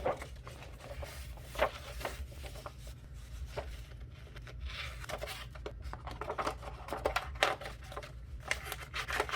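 Scissors snip and rustle through decorative paper for a junk journal storage book, a series of soft, irregular cuts and paper crinkles at close range, fairly quiet.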